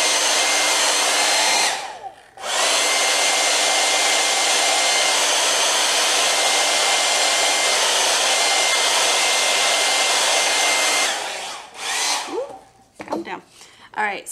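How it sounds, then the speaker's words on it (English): A hair dryer blows loudly and steadily over acrylic ink on paper, cutting off briefly near the start, then stopping near the end amid some handling noise. "Hit it with a hairdryer."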